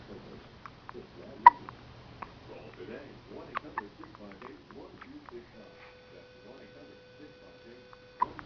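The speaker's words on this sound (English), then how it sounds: "Somebody got hiccups, baby." A baby hiccups in a quiet room: soft, short hiccups come in an irregular series, close and faint, among light rustling and a few quiet voices.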